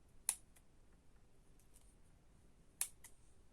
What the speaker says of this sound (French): je suis obligée de reprendre les ciseaux, de redécouper